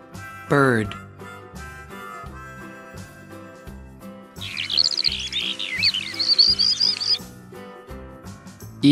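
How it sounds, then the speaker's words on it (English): A few seconds of high, rapid bird chirping and twittering from a children's wild animal cartoon, set over soft background music, with a short spoken voice just before it. "Bird."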